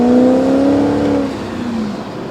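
A V8 engine with a hole in the exhaust revs up and then settles, its raspy, droning tone loud and close for about two seconds with no one talking.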